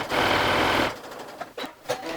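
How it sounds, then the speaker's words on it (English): Sewing machine stitching fabric piping with a narrow presser foot, a fast loud mechanical whir lasting just under a second before it stops and soft handling noises follow. "So you would just go ahead and stitch all the way down until you have your piping made."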